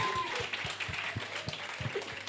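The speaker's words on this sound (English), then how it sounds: "Can we please give her a round of applause?" A festival book chat audience gives a round of applause, faint and somewhat distant, with soft claps and thumps under a steady room hum.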